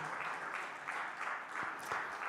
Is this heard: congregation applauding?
yes